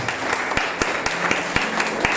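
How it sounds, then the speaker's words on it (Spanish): Loud, close applause from a church congregation during a worship service, with sharp individual claps standing out from a steady clapping crowd. "Le das un fuerte aplauso al que vive y reina"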